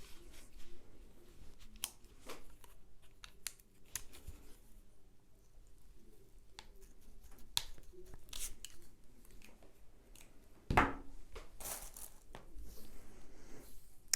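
Scissors cutting material, a reference length for making a waterproof hat, heard as sparse close snips and crinkly rustles with quiet gaps and one sharper handling knock, no talk.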